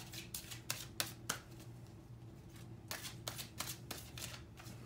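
Angel cards being shuffled by hand during a tarot reading, a steady series of soft riffling bursts in two clusters, close and moderately quiet with a faint background hum and no talking.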